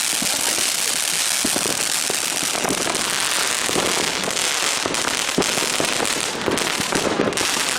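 A dense, continuous crackling barrage of New Year's Eve firework bursts launched from a battery at midnight, with sharp pops scattered throughout, loud and close, with no voices.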